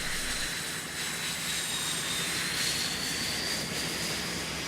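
Military bombing aircraft over the Gulf War battlefield, a steady broadband engine roar with a faint whining tone that drifts slowly, distant and continuous, with no talking.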